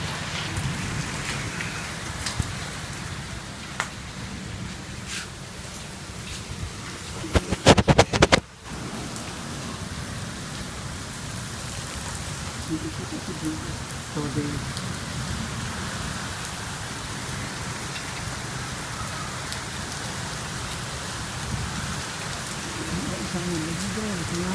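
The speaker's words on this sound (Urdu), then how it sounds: "حد نگاہ تک بارش ہی بارش نظر آئے گی" Heavy rain pours steadily and close by across a wide open view, a dense hiss with scattered drop impacts, broken briefly by a louder burst of handling noise partway through.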